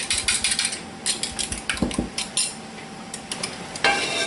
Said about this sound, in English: Run a butter knife or something down in there.